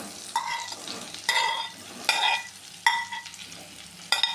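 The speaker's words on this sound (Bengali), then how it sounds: "এখন দিয়ে দেব সয়াবিনগুলি" Boiled soybean chunks being stirred and fried in a pan, with bursts of scraping and sizzling at a steady stir rhythm, close and moderately loud, with no voices.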